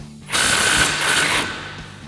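Up close, an impact wrench loosens a brake caliper bracket bolt on a 2002-2018 RAM 1500, making one loud, rapid rattling hammer burst that lasts just over a second, then stops abruptly.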